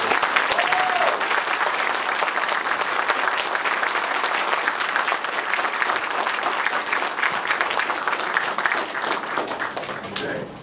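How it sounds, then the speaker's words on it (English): Audience at a Pensacon 2016 fan convention panel breaks into loud, sustained applause, dense clapping that holds steady for about ten seconds before easing slightly at the end. "Ladies and gentlemen, round of applause,"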